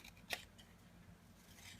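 Scissors make a single crisp snip through paper while shapes are being cut, a quiet, close click followed by soft handling noise.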